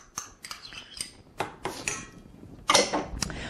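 Spoon clinking and scraping against a bowl while Greek yogurt and mayonnaise are stirred together, a series of short close taps and scrapes with a louder clatter near the end.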